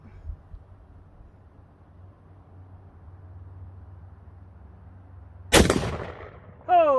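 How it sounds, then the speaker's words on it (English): A Mosin-Nagant bolt-action rifle with a sniper bolt is fired outdoors at a steel silhouette target: one sharp, loud report cracks out of a quiet, low hum, and a second blast begins right at the end. "we're out shooting a Mosin"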